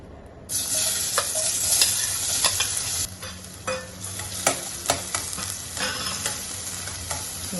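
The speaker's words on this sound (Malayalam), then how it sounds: "അതുകൂടെ ഒന്ന് ഈ നെയ്യിൽ ഇട്ടിട്ട് ഒന്ന് വഴറ്റിയെടുക്കണം" Chopped jackfruit sautéing in ghee for a jackfruit and green gram payasam: a steady, close sizzle with repeated scraping stirs of the spoon against the pan, and no voices.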